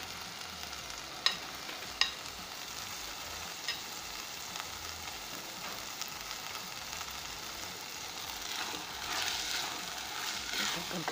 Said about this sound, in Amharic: የቀቀልሁትን አተር እንደዚህ ቆንጆ አድርጌ በደንብ አንድ ላይ አቀላቅለዋለሁ።